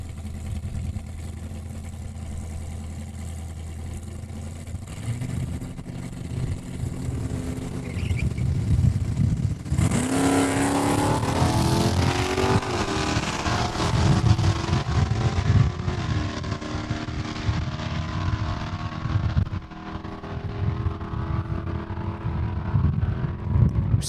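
Drag racing at a raceway, a Mustang and a Super Coupe launching down the strip; steady loud engine roar builds, with a sharper surge of revving partway through, continuing strongly to the end with no voices.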